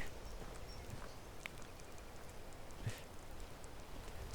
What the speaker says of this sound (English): Oh, not rain.